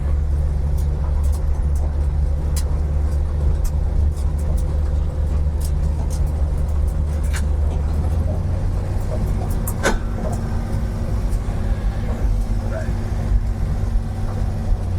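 An old car engine, on its first drive since 1991, rumbles steadily and loudly from inside the vehicle while driving, with rattles and clicks throughout and a voice speaking over it.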